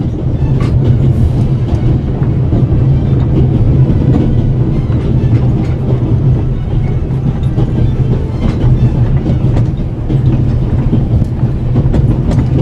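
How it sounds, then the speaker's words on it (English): A train in the video game The Raven: Legacy of a Master Thief rumbles loudly and continuously with rhythmic clattering of wheels on track, a steady heavy roar throughout. "How can I stop the train?"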